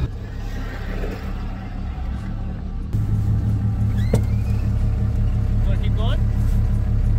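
An old pickup truck drives toward a snowmobile riding area in the Revelstoke mountains, its engine holding a steady, loud low drone and rumble throughout, with voices talking over it.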